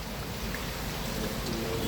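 Steady rain falls and patters on surfaces outdoors around houses, a dense continuous hiss with low rumble, fairly loud and unbroken, with no voices.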